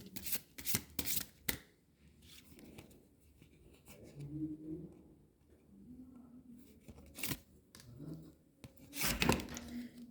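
Tarot cards are shuffled and drawn by hand: rapid riffling bursts at the start, then scattered card slaps and shuffles, with soft speech murmuring in between.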